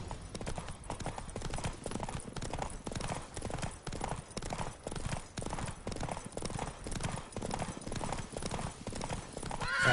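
Horse galloping in The Witcher 3, a fast, even clip-clop of hooves close up and continuous for the whole stretch, with a neigh near the end and no talking.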